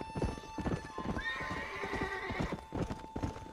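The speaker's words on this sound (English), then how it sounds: "Back the horse up." Horse hooves clip-clop in a steady rhythm while a horse whinnies loudly partway through, with the game sounds close and clear.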